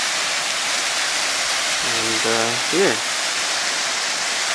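River water rushes steadily near Salisbury Falls on the Aorere River, a loud, dense, unbroken roar that fills the whole stretch while someone briefly speaks over it.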